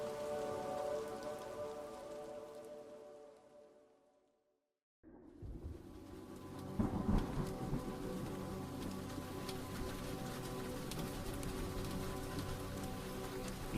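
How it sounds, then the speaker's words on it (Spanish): Steady rain patters and splashes on surfaces as an effect in a Spanish horror audio drama, fading briefly to silence before returning heavier and denser, continuous with no voices. "La lluvia no cedía, mas al contrario, parecía que cada día llovía con más fuerza que el anterior."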